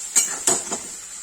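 Onion masala with turmeric and red chili being stirred in a pan, with three quick metallic scrapes and clinks of a spoon against the pan close by, the first two sharper than the third.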